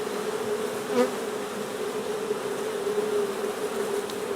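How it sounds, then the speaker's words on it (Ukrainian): Honey bees trapped in a jar buzz in a steady, droning hum at close range, with a few brief louder swells as individual bees pass near, no voices. "ми набрали третину банки бджілками"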